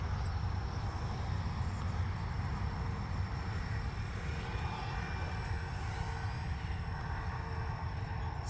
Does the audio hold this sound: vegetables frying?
no